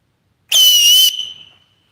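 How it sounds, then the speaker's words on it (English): A nature whistle, made by huffing across the top of cupped material rather than into it, gives one shrill, loud blast of about half a second that tails off quickly. "Nature whistle"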